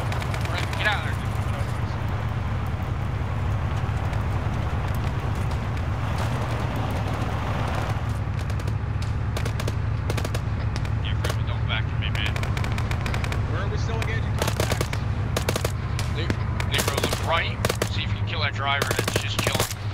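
Dense, continuous gunfire from the video game Insurgency: Sandstorm, with rapid automatic bursts crackling throughout and growing sharper and more frequent toward the end, while radio-style voices talk over it.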